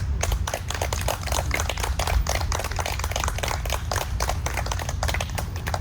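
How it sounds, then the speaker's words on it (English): Applause at an outdoor commemorative brick placement ceremony, a moderate group clapping in quick, uneven bursts over a low rumbling background. "I want to give everyone please, a round of applause for these wonderful men."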